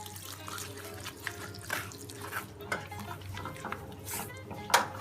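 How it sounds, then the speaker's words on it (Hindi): Water is poured lightly into a pan while making chilli chutney for momos, a faint trickle with small drips and splashes and a few clinks of metal, heard alone at low level. "हल्का सा डालेंगे पानी"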